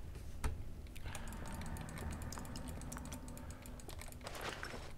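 Steady rapid clicking of computer keys typed throughout during a Minecraft Technic Pack session, close and fairly quiet, with no talking.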